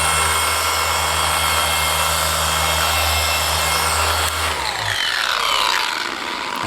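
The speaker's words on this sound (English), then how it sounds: "I'm not doing precision polishing here, I'm just cleaning it off." Machine polisher deep-cleaning a car's paintwork, running as a loud, steady motor whir up close before winding down near the end and leaving a rubbing, scuffing sound.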